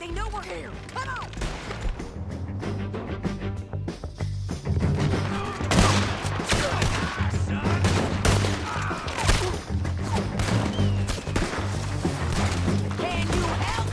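Rapid, loud volleys of gunfire ring out in a Red Dead Redemption 2 shootout on a bridge, with bursts of shots piling over one another while voices call out at times.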